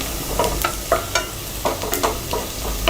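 Onions softening in hot oil in a pan for a prawn curry, with a soft continuous sizzle and repeated scrapes and clinks as the spoon stirs, close by, with no voices.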